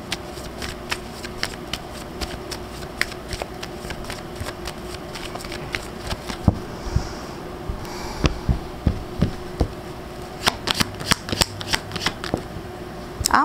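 A deck of tarot cards being shuffled by hand, repeated crisp riffling and slapping bursts in an irregular rhythm, close and clear for over ten seconds.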